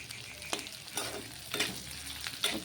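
Boiled potato pieces frying in a pan while being stirred, a soft continuous sizzle broken by a few distinct spatula scrapes spaced about half a second to a second apart, fairly quiet and close.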